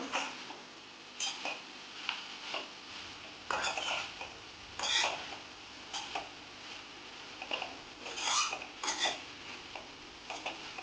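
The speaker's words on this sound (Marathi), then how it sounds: "आता मी ही छान मिक्स करून घेणार आहे" Dry snake gourd sabji being mixed in a pan with a metal spoon: irregular bursts of scraping and clinking against the pan, separated by short quiet gaps, close by with a faint sizzle underneath.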